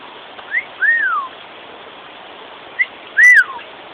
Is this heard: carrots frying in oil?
no